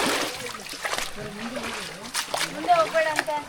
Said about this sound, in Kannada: ಹರಿಯುವ ಜರಿ.